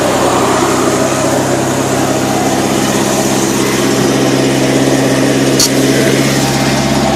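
Car engine idling while warming up, a steady continuous drone with a low hum that holds even throughout, close and fairly loud, with no talking.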